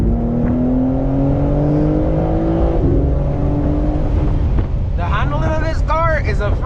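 A 2022 BMW M4 Competition driven hard at night: engine drone with rising then falling tones under wind rush, followed by a sharp whining, squealing burst near the end, with someone talking over it.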